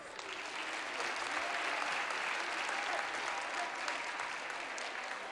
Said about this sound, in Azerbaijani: Alqışlarınız